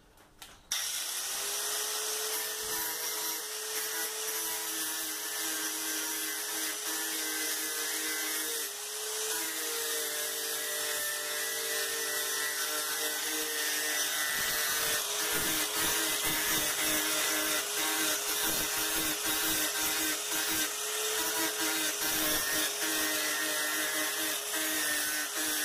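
A steady, loud electric grinding whine from an electric sander on metal runs continuously with a droning tone, shifting slightly in pitch as the tool presses against the hard surface, during refrigerator door seal repair.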